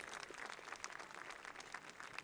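Audience applause at a conference's opening remarks on youth-led peacebuilding, a steady, fairly faint wash of many hands clapping that continues evenly throughout with no voices.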